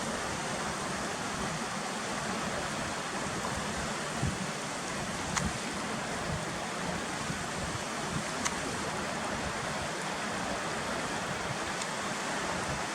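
Continuous rushing water from Cautley Spout waterfall, a steady broadband roar like a stream or falls heard from a moderate distance, with no talking.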